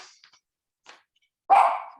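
A dog barks once, loud and close, in a quiet room during a joint planning meeting, after a few faint scattered sounds.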